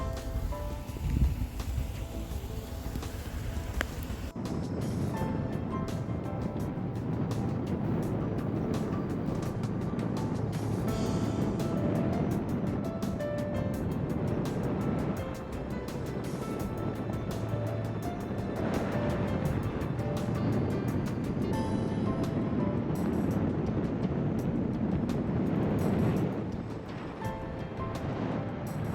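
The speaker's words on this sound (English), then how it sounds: "I get to drive home in a storm" Car driving home in a snowstorm, a steady broadband rumble of engine, road and wind noise heard from inside, continuous and loud throughout with no talk.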